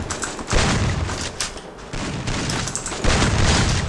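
Heavy bursts of gunfire and booming shots in a shooting video game, loud volleys starting and stopping in clusters with no talk over them.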